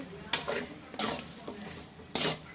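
Chilli and soy sauces are stirred in a pan for noodles: three quiet, separate scraping strokes of a utensil against the metal, with a faint sizzle between them.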